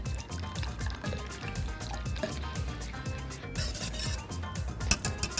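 Milk being poured into a thickening béchamel sauce on the stove, a steady liquid trickle and gentle bubbling with occasional soft clinks, close and continuous.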